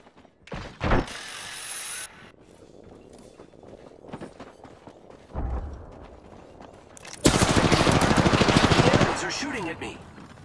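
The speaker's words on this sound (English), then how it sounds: "Shooting at me." Gunfire in Apex Legends during a firefight, with a short sharp shot early on and a loud dense rapid burst of automatic fire later, mixed with mechanical clicks and footsteps and some talk.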